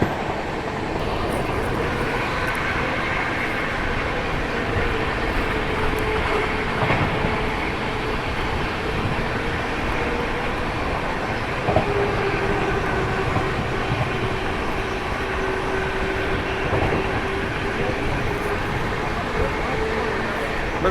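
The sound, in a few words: Kathgodam Shatabdi Express train running at speed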